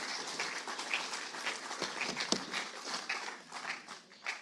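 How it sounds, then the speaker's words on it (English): A crowd applauds steadily at a Board of Deputies of British Jews election event, a dense patter of clapping hands that holds at a moderate level throughout, heard from a short distance. "a round of applause, please"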